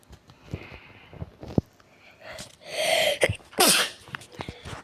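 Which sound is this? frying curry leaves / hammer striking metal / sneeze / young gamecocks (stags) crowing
sneeze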